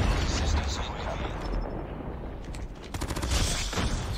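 Rapid gunfire from a gun in an online shooter video game, dense bursts and chattering shots with explosions underneath, loud and sustained, with a voice talking over it.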